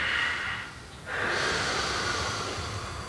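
Deep inhale during a guided yoga breathing exercise, a steady airy breath that dips briefly around the one-second mark and then swells into a long, continuous intake, close and alone.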